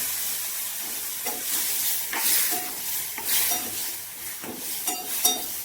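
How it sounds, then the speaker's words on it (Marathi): Drumstick pods sauté with salt, chili powder, turmeric and masala in a pan, a continuous close sizzle and hiss broken by repeated scraping stirs at roughly one-second intervals, with no voices. "शेवग्याच्या शेंगा मस्त आता परतून घेतल्या"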